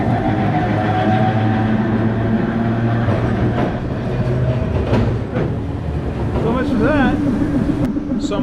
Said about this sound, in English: So I'm on the trolley in